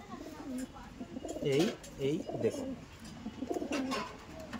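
Andhra pigeons, white-barred fancy birds, coo in soft repeated throaty bursts close by, while someone talks over them.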